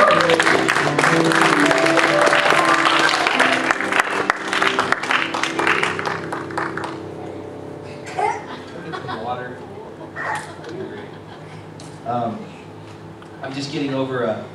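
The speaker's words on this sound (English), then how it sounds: "Can we give the worship team a great applause?" An audience applauds a church worship team, producing a dense, loud burst of clapping that fades after several seconds, followed by someone talking with scattered light sounds from the crowd.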